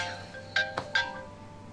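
A phone rings with a short electronic ringtone: a few bright, quick tonal beeps close by in a quiet room.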